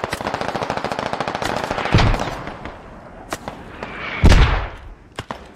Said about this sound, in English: those mortar rounds landing